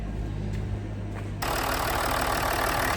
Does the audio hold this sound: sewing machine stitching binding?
no